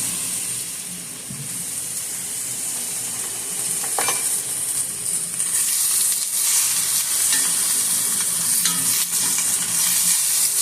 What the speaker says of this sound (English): now I'm going to go ahead and add my rinsed fresh spinach and cook that down